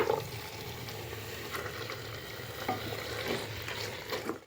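Chicken and meat pieces sizzle in butter in a pan as a spoon stirs them, giving a steady frying hiss with soft scraping and clinks, close and moderately loud, with no speech.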